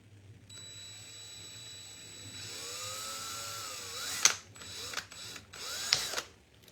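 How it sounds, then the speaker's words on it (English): A drill whines steadily through a plastic snow globe, its pitch rising and sagging as it bores, followed by a few sharp clicks and knocks as it stops and backs out. "We drill through it and then back out."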